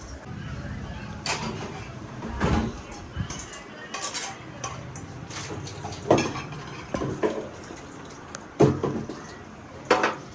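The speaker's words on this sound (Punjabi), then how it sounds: "ਹੁਣ ਮੈਂ ਧੋ ਰਹੀ ਆ ਭਾਂਡੇ" Dishes being washed: cutlery, plates and pots clink and clatter in irregular sharp knocks over running background noise, close by, with a voice talking in between.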